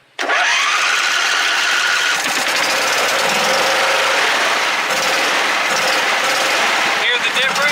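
A John Deere V-twin engine running rough on a dead cylinder, a loud, steady, uneven drone that holds for about seven seconds right after a sudden start.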